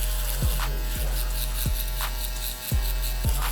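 A buzzing electric shaver runs continuously up close, cutting a child's hair for a fade, with a few short rhythmic bumps as it passes over hair.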